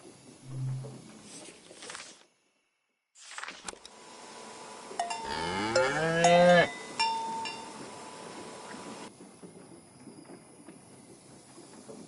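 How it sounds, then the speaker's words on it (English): Cows in the video game Season: A Letter to the Future, a long rising, wavering lowing moo heard mid-clip against a soft outdoor game ambience, with a brief silent gap before it and no talk. "Farmer Layton's cows."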